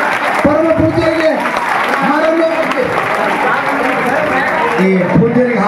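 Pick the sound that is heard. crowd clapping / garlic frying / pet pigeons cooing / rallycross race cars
crowd clapping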